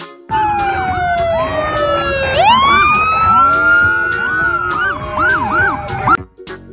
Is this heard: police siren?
yes